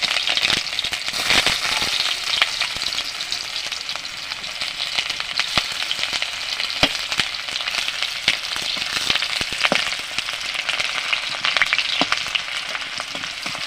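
Chopped onion fries in hot oil in a kadai, a dense, even crackling sizzle that runs steadily close by, with occasional faint stirring and no voices.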